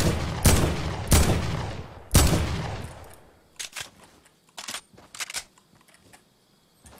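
Three loud, close gunshots from a video game fire at roughly one-second intervals, each booming and ringing out. Lighter clicks and rattles follow.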